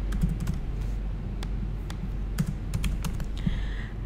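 Fast, steady typing on a computer keyboard, heard close up and on its own, with crisp clicks and a few louder keystrokes standing out.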